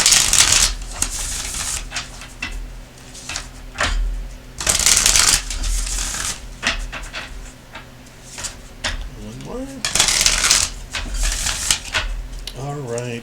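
Oracle card deck being shuffled by hand, with repeated riffling bursts and papery slides near and fairly loud, alternating with pauses and a person talking in between.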